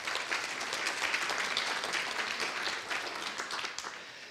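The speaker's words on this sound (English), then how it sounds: "let's give them a round of applause" An audience at a conference opening in Prague applauds steadily, a dense wash of many hands clapping at moderate loudness that holds throughout and tapers slightly at the end.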